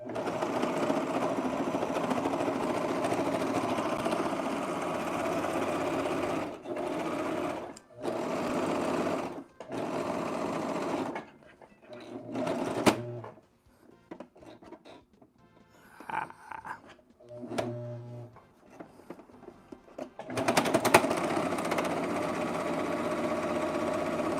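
A serger sewing machine stitches t-shirt knit fabric in several loud bursts of steady whirring, separated by short pauses and brief stops and starts, with no talking.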